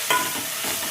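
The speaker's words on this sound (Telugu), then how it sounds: "మంచిగా కలుపుకోవాలి." Ginger-garlic paste sizzling in a pan for boti curry, with a steady hiss throughout and a brief sharp scrape of a spoon near the start, close and loud, with no talking.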